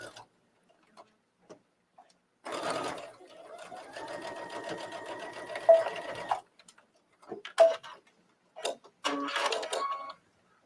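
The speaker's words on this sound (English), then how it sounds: "I have no problem sewing this seam." A sewing machine stitches a seam on a trench coat in short bursts, a fast mechanical whirring run of a few seconds followed by brief spurts, close and clear amid quiet pauses with a little talk.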